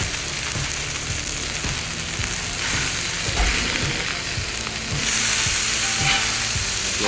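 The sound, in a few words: mahi mahi frying with garlic paste in a pan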